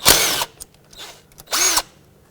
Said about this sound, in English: with a 10mm, unbolt the solenoid from the intake